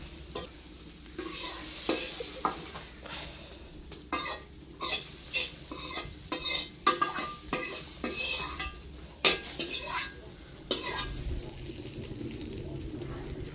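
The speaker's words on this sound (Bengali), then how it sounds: "এই জন্য আলুগুলি আমি একটু সুন্দর করে ভাজতে নেব" Potatoes fry in a pan with a steady sizzle while a spatula scrapes and clacks against the pan in an irregular stirring rhythm. The sound is close and fairly loud, with a bright scrape on each stroke.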